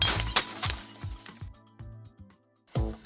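Glass breaking in a smash room, several sharp crashes and clinks in a row with bright shattering bursts and tinkling debris between, ending in one more loud smash.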